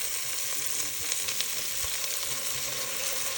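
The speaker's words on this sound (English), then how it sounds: "as we stir the onion and celery and garlic all together, we're going to let it sweat a little bit" Onion, celery and garlic sizzle in a pot while being stirred for a beef stew, making a close, steady frying hiss with soft scraping and clicks from the spoon, and no talking.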